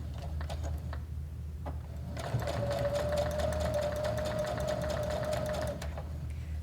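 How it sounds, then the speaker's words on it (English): A sewing machine stitches a dog bandana, with a few short forward stitches, then a steady, close, whirring run of back-stitching before it stops. "A few forward, lock it in with your back stitch."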